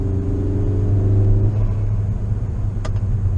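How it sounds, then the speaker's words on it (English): A 2017 Volkswagen Jetta TSI turbocharged engine rumbles steadily while a rising turbo spool whine builds and then drops away, followed by a brief sharp hiss from the engine bay. "Turbo spool's nice."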